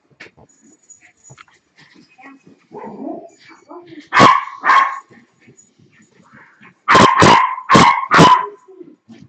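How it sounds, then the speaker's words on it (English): A dog in a home barks loudly and close: two sharp barks, a pause, then a rapid burst of three or four more, with soft whimpers and small noises in between. "dog's going crazy"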